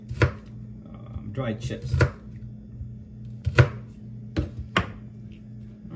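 Bitter melon being sliced with a knife on a cutting board, several sharp, close chops spaced unevenly under a low kitchen hum, with a few words of talk in between.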